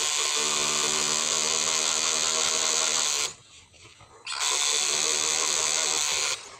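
A tattoo machine buzzes with a steady, close electric whine as its needle works on skin, cuts out for about a second, then resumes at full volume.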